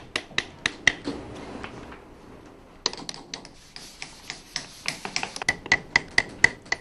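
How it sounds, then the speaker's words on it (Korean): A carving knife is struck with a hammer to engrave wood, giving a steady run of sharp, close wooden taps with short pauses, some blows lighter and some harder. "칼을 망치로 두드리는 각 작업은 무엇보다 힘의 강약을 조절해야 하기에 고도의 집중력을 요한다."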